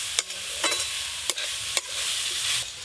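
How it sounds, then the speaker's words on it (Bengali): Coconut and date palm jaggery filling with cardamom being stirred and mixed in a pan, giving a few soft, sticky scraping strokes at irregular intervals over a faint, steady sizzle, close and quiet, with no talking. "সব কিছু একসঙ্গে ভালো করে মিশিয়ে নেব।"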